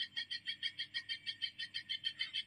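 A green leafbird repeats a rapid, rhythmic series of bright, buzzy chirps, about six per second, steady and fairly close over a low hum.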